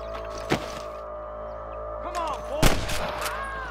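Sniper rifle gunshots in the Red Dead Redemption video game: two sharp, loud cracks about two seconds apart over a low game hum, with ricocheting whistles and in-game sounds around them.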